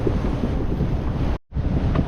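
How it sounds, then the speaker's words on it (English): Sailboat pushing through choppy seas with white horses and water breaking over the bow: loud, steady wind and water rush, broken by a brief dropout. "white horses, quite a lot of water coming over the bow"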